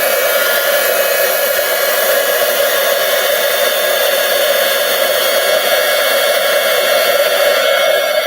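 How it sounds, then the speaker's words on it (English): A craft heat tool blows hot air onto a small card-making piece, a loud, constant whirring hiss like a hair dryer that holds steady from start to finish with no talking. "We're going to use our heat tool to heat this up."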